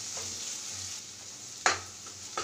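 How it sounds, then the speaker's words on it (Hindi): Masala with garam masala and fresh coriander is roasted and stirred in a pan for chana dal, giving a soft, continuous sizzle broken by a few sharp scraping strokes of the spoon. "तो ये अच्छे से हमने इसको भूनना है।"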